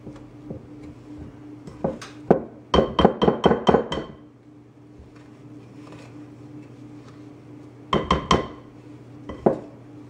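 Cookie dough being stirred and mashed in a bowl, with a spoon clacking against the sides in quick bursts of several knocks, then pauses, then another short flurry of taps.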